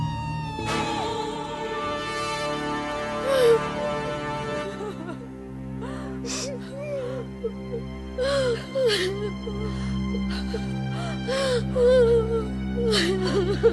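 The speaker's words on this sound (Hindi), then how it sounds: "बहुत जल्द महारानी रासा के कक्ष से रोने की आवाज आती होगी।" Sobbing and whimpering cries rise and fall over a sustained musical drone, breaking into several short wavering bursts, with a voice speaking at moments between them.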